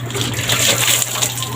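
Water gushing steadily from a tap or hose during a bathing session, a continuous close splashing rush with a low hum beneath it.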